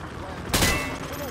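A single loud gunshot in Call of Duty: Modern Warfare 2, fired through light cover during weapons training, sharp and close with a short decaying tail over steady background noise.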